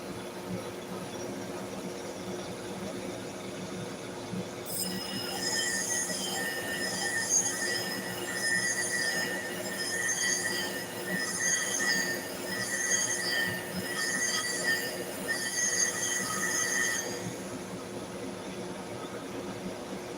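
A Lister large animal clipper cutter blade is sharpened on a grinder, a steady high whine rising suddenly and holding for about twelve seconds before cutting off, over a constant low mechanical hum.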